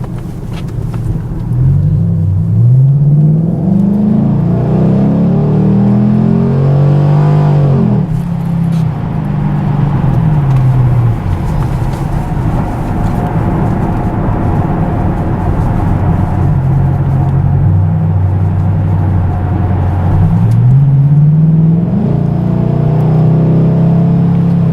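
A Camaro SS fitted with an MRT cat-back exhaust cruising on a highway at about 70 mph, giving a steady, loud, low engine drone and road rumble throughout, with a few gentle swells in engine pitch and no talking.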